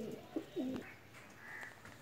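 A blue-tail pigeon, a young bird kept at a Pakistani home loft, gives a short low coo, faint against quiet background hiss, with a few soft chirps around it.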